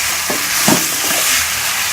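Green chillies are stirred in a frying pan while cooking aloo, a loud, continuous sizzling hiss broken by a few soft scraping strokes, close and heard alone.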